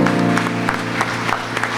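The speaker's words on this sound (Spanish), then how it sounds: "Démosle un fuerte aplauso al Señor." A church congregation claps during a sermon while steady sustained tones, likely music, sound beneath, with loud rhythmic bursts of clapping recurring in a regular beat.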